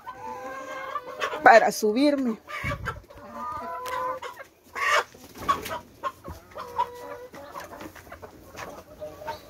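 Hens in a backyard coop cluck and squawk in short, irregular bursts close by, with a person talking intermittently over them.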